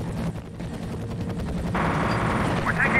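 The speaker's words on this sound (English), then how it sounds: "We're taking fire." Sustained automatic gunfire from the first-person shooter F.E.A.R., a dense rattling barrage of rapid shots that keeps up for the whole stretch at steady, fairly loud volume.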